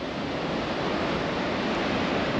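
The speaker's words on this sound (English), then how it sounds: "And there's some big waves here." Big ocean waves break continuously on the shore along Australia's Great Ocean Road, a loud, steady roar of surf and wind with no talk.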